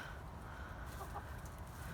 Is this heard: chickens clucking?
yes